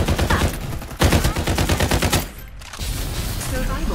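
Rapid automatic gunfire in the battle royale video game Farlight 84 rattles out in loud, close bursts, breaks off for a brief pause, then starts again.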